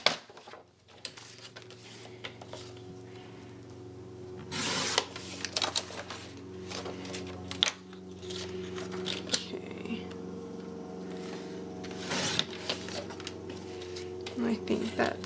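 Paper being trimmed with scissors for a scrapbook page: a few crisp snipping and rustling strokes rise quietly over a low steady hum, spaced a few seconds apart.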